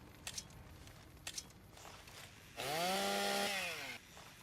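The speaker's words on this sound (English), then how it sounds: "That's a weapon I can use. Because it's a chainsaw." The Ripper chainsaw weapon in the video game Fallout: New Vegas revs up into a loud, sustained buzzing whine for over a second, then cuts off, preceded by a couple of faint clicks.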